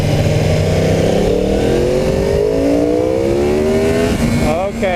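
A 2015 Yamaha R1 motorcycle accelerates hard, its loud engine note climbing steadily in pitch through the revs, with a brief shift or throttle change near the end.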